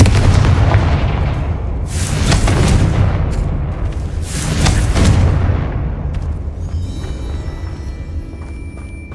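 A Confringo fire spell in Hogwarts Legacy bursts in two loud, heavy booming explosions about two seconds apart, each a broad rumbling blast that decays into crackling, followed by a brighter shimmering magical tail.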